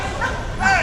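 Police dogs at a street demonstration give a couple of sharp, close barks and yips amid crowd noise and overlapping voices.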